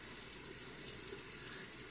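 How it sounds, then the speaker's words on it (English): Tap water runs steadily into a sink while hands are wet for a hair care routine, giving a continuous close hiss with no talking. "I'm just going to turn on my water really quick and wet it with my hands"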